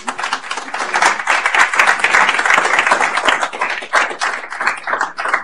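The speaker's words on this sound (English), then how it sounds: "I would love to ask you for an applause for my wife" An audience gives a sustained round of applause for the speaker's wife Andrea, a dense, even clatter of many hands clapping close and loud from start to finish.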